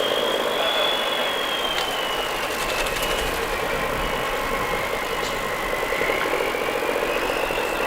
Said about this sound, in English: 138 in the programme, which is an ERF C series, two-axle tractor unit dating from 1984